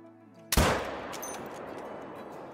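A single sharp, loud 6.5 rifle shot rings out while hunting Rusa deer outdoors, then rolls away in a long decaying echo, with faint background tones before it.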